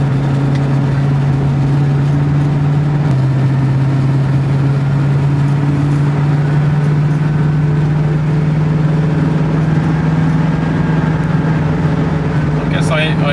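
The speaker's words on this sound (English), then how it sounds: "I expected the engine to be noisy, but maybe not this noisy" A 1966 Ford Mustang GT's engine drones loudly and constantly while driving, a steady low roar with a voice talking over it.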